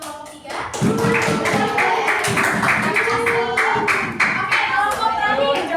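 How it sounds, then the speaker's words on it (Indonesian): A classroom of primary school pupils claps for a student group, rapid rhythmic hand claps close by and loud, sustained for several seconds. "Kita beri tepuk tangan untuk kelompok 3"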